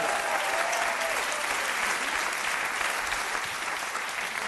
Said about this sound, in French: Sylvain Richardot, on l'applaudit encore une fois très très très fort pour l'encourager.